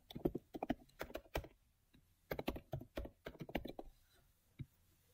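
Typing on a computer keyboard comes in two quick bursts of crisp, close key clicks separated by a short pause, with a single stray tap near the end and no speech.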